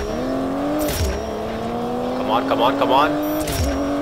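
A race car engine in a street racing game holds a loud, sustained drone that climbs in pitch, drops sharply at gear shifts and climbs again. Someone speaks briefly over it.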